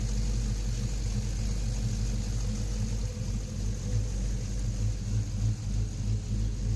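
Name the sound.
swapped LS V8 engine idling in 2009 Jeep Liberty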